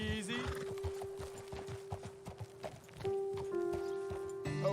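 Horse hooves clip-clop at a steady walking rhythm in the video game Red Dead Redemption 2, close and clear over a sustained musical drone.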